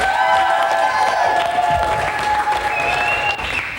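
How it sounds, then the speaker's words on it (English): Audience applause and some cheering for a comedian at a campus comedy show, loud at first then gradually tapering, with a few whoops and a faint voice over it. "Let's give it up for Magic Mikey Makanowitz."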